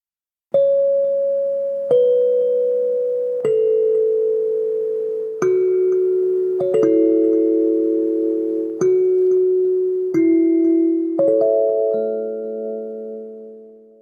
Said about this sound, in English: And a modern kalimba that sounds like this.